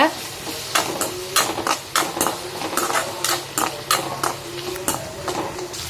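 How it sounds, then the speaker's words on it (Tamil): Small onions, tomato and red chillies are stirred in a pan for a brinjal curry, with a spoon scraping and knocking against the metal in a quick irregular rhythm over a faint sizzle, while a voice talks alongside. "சின்ன வெங்காயம் போட்டிருக்கேன் அதையும் நல்லா வந்து வதக்கி விடுங்க"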